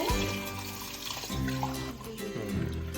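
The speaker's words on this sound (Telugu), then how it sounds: "ట్యాప్ ఆన్ చేసుకొని" Water runs from a kitchen sink tap in a steady, close trickle and splash that continues throughout, with low rumbling tones underneath.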